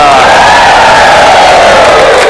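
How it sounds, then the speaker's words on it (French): Studio audience roars with loud, continuous cheering and clapping, a dense wash of crowd noise with whoops throughout. "Mes amis, vous pouvez applaudir"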